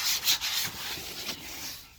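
A fabric seat cover on a 2009-2023 Ram Classic 40/20/40 bench seat tightens as the backrest reclines, giving a close, continuous rubbing and scraping friction with a few brief swells over about two seconds.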